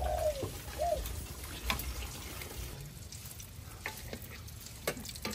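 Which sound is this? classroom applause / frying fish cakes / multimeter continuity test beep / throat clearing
frying fish cakes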